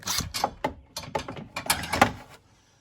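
A ratchet wrench with a 12 mm socket loosens a bolt on a Honda Pioneer 1000-5 front bumper brush guard, giving close, quick bursts of clicking strokes in an uneven rhythm, then falling quiet.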